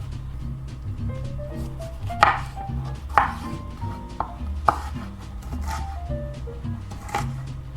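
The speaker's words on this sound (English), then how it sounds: "we're gonna start on chopping all of our stuff" A knife chops a red bell pepper on a cutting board, giving a run of sharp irregular thumps and taps up close over a quiet kitchen background.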